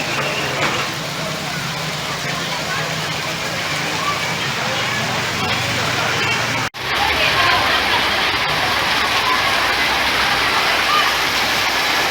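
Unseasonal rain pours down steadily on an outdoor market, a dense continuous hiss and patter that stays loud for the whole stretch, with only a brief break partway through and a low rumble underneath.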